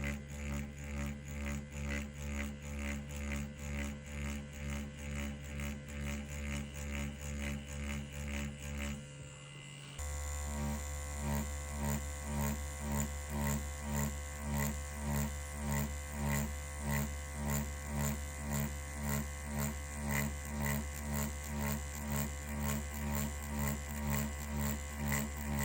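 An EZ P3 Pro Touch tattoo machine with an 11 curve magnum needle runs at 6.1 volts, giving a steady, loud electric buzz with a fast even pulse that breaks briefly and then resumes.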